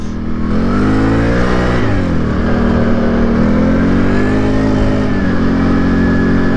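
A car engine revs hard and steadily close up through the whole stretch, pitch rising and falling as the throttle opens and eases, loud and continuous with no talk over it.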